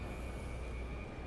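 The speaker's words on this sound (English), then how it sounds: "the last 2 or 3 stations here, the train goes above ground" A Higashiyama Line subway train in Nagoya running above ground makes a faint, steady rumble with a thin, constant whine over it, unbroken through the short stretch and with no voices.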